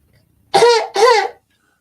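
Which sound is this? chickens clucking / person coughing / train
person coughing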